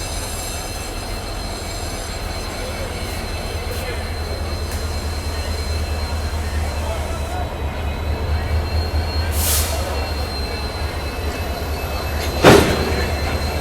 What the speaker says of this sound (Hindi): ये लो भाई साहब, जोरदार कपलिंग हो गई यहाँ सक्सेसफुल अपनी WDG4 लोकोमोटिव की।